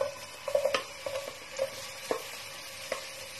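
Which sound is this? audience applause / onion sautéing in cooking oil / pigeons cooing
onion sautéing in cooking oil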